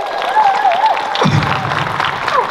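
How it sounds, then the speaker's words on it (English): Applause at a Cowboy Bebop reunion concert, a dense wash of clapping from the crowd with cheering voices over it, steady and full through the whole stretch. "another round of applause for that"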